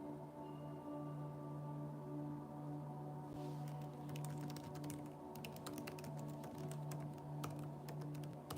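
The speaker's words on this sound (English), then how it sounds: "what I'm typing to you right now" Computer keyboard typing, a run of quick, irregular key clicks during a live tarot reading session. It starts after about three seconds and continues steadily over a low, constant background hum.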